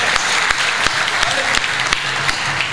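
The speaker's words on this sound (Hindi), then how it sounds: "एक बार ताली बजाओ तो मैं शुरू हूं" An audience at a Hindi comedy show applauds, sharp repeated claps forming loud, fairly regular bursts of clapping from a crowd throughout.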